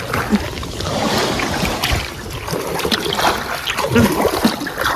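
Water splashes and sloshes irregularly as kayak paddles dip, close by, over a constant wash of wind and waves on the Nemunas River in a 5 m/s wind.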